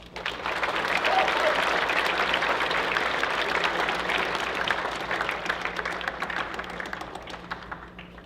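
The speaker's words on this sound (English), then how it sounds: "Please join me in giving them a warm round of applause." School Veterans Day assembly audience applauding guests and veterans: a full, sustained burst of many hands clapping in a large room, strong at first and gradually thinning toward the end.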